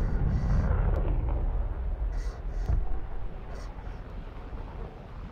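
Bombs exploding in a tank battle video game: heavy rumbling blasts with a deep boom near the start and another hit around the midpoint, rolling thunder-like and loud, with a faint voice underneath.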